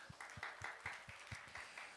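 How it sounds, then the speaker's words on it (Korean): Applause at a Korean church young-adult service, with a handful of people clapping in a steady, fairly quiet rhythm of distinct claps, close by and not very dense. "새영이에게도 한번 박수 한번 쳐줄까요?"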